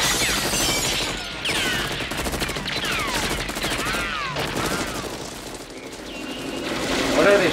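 Rapid bursts of automatic gunfire fill a scene from the 1985 action film Invasion U.S.A., dense and continuous, with whistling effects and shouted voices mixed over the shooting.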